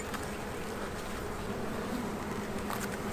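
A steady, dense hum of honey bees buzzing around an open, calm hive during a spring inspection. The drone is continuous and close, with no voices over it.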